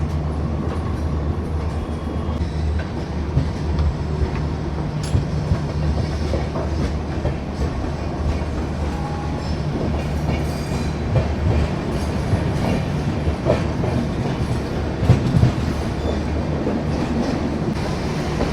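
Bilaspur–Bikaner Express pulling out on a parallel track after a loco reversal, a steady broadband rumble of rolling wagons with faint clickety-clack throughout, no voices.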